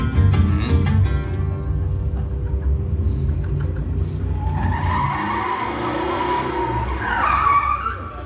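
A car pulls over to the left side of the road with a low engine rumble, then a long tire squeal or skid rises partway through and fades as it comes to a stop.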